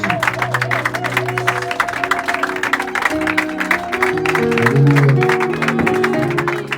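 A church congregation applauds and cheers to welcome a preacher, with steady crowd noise under organ-like sustained music tones throughout.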